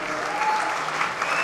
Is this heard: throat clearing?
no